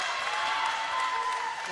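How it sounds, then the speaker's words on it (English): A basketball crowd at a Peninsula home game cheers and applauds, a broad, steady roar of noise with no single voice standing out. "the Peninsula crowd here making some noise"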